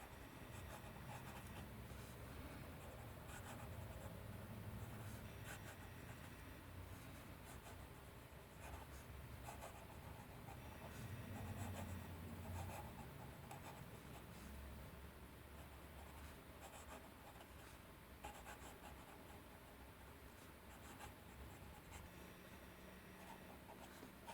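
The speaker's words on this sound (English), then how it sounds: "Looking at the fine nib, it's still holding the brown tone very nicely." A Sailor fountain pen with a fine nib scratches and glides across paper in soft, continuous strokes with brief pauses, faint and close, with no voices.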